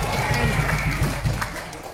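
Audience applause at a community gathering in Kalabakan, called for the imam about to read a prayer: a dense, steady wash of clapping with some crowd noise, fairly loud and close, fading slightly toward the end.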